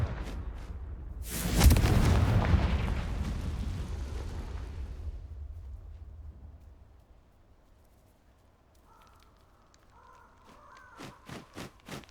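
A Confringo fire spell from Hogwarts Legacy bursts loudly and booms, then rumbles as it fades over several seconds, followed by a few faint, sharp clicks and light magical chimes.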